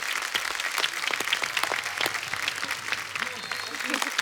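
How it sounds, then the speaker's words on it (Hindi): Loud, sustained applause from a television comedy show's studio audience, dense clapping filling the whole stretch, with talking underneath. "एक बार जोरदार तालियां सुरेश पाजी और प्रियंका भाभी के लिए।"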